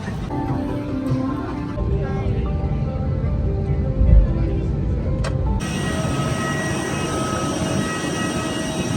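A steady, broadband airplane engine roar fills the cabin, with a deep low rumble throughout and a brief bump midway; a faint voice murmurs underneath.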